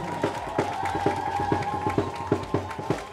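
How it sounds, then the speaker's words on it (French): An audience at a speech on women's empowerment in Côte d'Ivoire bursts into cheering and whooping, with sharp rhythmic claps and shouts rising in repeated loud pulses. "Applaudissez pour vous-même."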